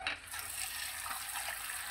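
Water runs steadily into a saucepan holding cut potato sticks, a continuous soft hissing pour from start to finish with no voices.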